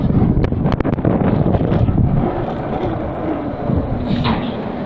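Strong wind buffets the microphone in a steady, loud rumble, with a few sharp gusty thumps near the start.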